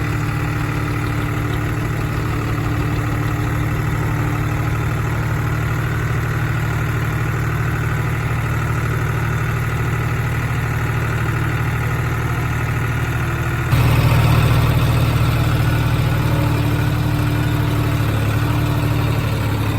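A two-cylinder farm tractor engine idles steadily and close by, a continuous low rumble with a faint pulsing beat that grows slightly louder and rougher near the end.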